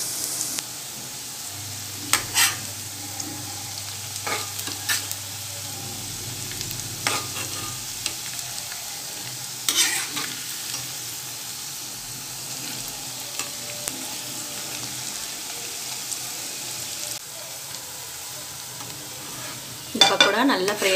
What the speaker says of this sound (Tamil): எண்ணெய் சூடாக இருக்கிறதுனால கொஞ்சம் ஜாக்கிரதையாக போடுங்க. நல்லா பொரிஞ்சிட்ருக்கு.